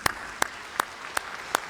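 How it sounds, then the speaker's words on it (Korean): Legislators in the National Assembly give a standing ovation as President Park Geun-hye enters for her 2016 budget address, heard as five sharp, evenly spaced claps in a steady rhythm over a quiet hall, with no talking. "의원들이 기립박수를 치고 있고요"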